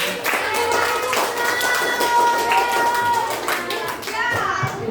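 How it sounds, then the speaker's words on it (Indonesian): A fourth-grade class claps together in the classroom, a brisk burst of many hands clapping close by, with children's voices chattering over it. "Tepuk tangan."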